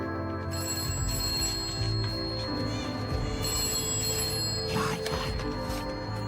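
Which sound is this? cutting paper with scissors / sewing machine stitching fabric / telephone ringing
telephone ringing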